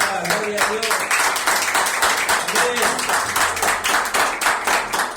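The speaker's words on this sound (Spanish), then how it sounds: "Dale un fuerte aplauso a Jesucristo" A church congregation claps loudly during a sermon, with steady dense applause and rhythmic hand claps going on throughout, and a preacher's voice partly heard over it at the start.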